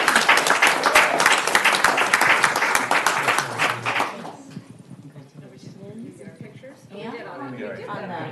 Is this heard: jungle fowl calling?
no